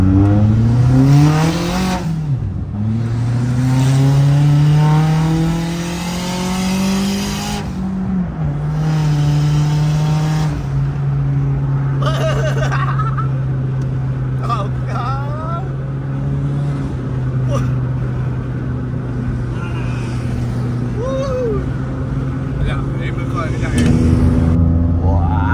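Perodua Myvi G3 turbo engine revving up and settling into a steady idle with sharp crackles, loud and near, while people talk over it.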